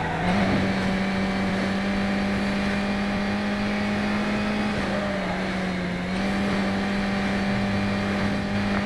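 A race car engine in the Midnight Club LA racing game, a loud steady high drone holding at speed with slight pitch shifts, continuous and without talk.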